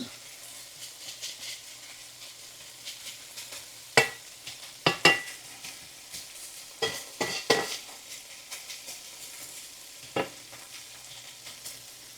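Canned no-salt green beans fry in a pan under a low, continuous sizzle, broken by occasional scraping and clinking strokes as they are stirred.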